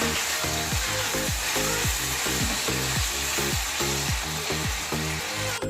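Capsicum and onion for chilli chicken being stirred in a hot pan, a loud steady sizzle with repeated rhythmic scraping strokes of a spatula against the metal, close and continuous with no talking.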